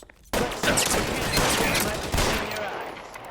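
Dense, sustained gunfire from the video game L.A. Noire, a loud broadband volley of rapid shots running almost without a break after a short quiet start, with a faint voice underneath.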